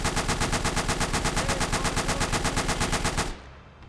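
A machine gun crew fires in Gates of Hell, a World War II strategy game: a rapid, steady, evenly spaced automatic burst lasting over three seconds, loud and close, then cutting off abruptly into a quieter background.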